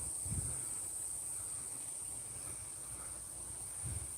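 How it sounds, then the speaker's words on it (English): A steady high-pitched drone of cicadas in the Australian bush hums continuously in the background, faint and even, with a couple of soft low thumps. "You may be able to hear the cicadas"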